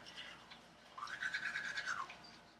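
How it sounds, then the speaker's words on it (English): A steady electric toothbrush buzz starts abruptly, runs for about a second at close range, then cuts off, with faint background noise before it. "now we're going to brush our teeth"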